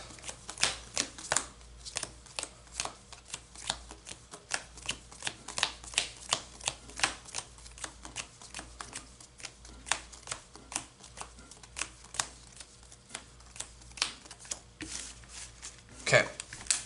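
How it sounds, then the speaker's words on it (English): A deck of Yu-Gi-Oh trading cards is riffled and shuffled in quick repeated bursts of crisp flicking, sharp card slaps recurring steadily throughout at close range. "I think it's as shuffled as I'm going to be willing to get it"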